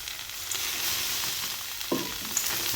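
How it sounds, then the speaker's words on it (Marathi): Pieces of brinjal sizzle and fry on a hot tawa, a soft continuous crackle with a brief stir or clatter near the end, no talking. "या वांग्याच्या फोडी याच्यावरच तव्यावर टाकून"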